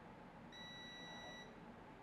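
Multimeter continuity beep while probing an EMI filter coil on a mobile phone board: a single steady high-pitched tone lasting about a second, alone over faint background hiss.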